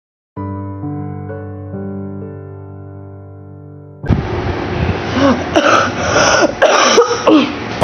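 In the horror video game Doors, a sustained tonal chord gives way to a run of rough, close coughs, several bursts in quick succession.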